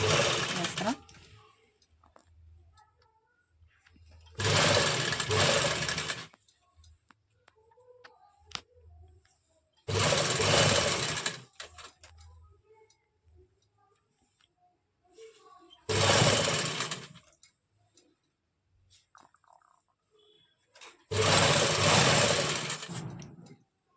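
A sewing machine stitches fabric in five loud, steady whirring bursts, each a second or two long, separated by quieter gaps where a voice talks faintly in the background.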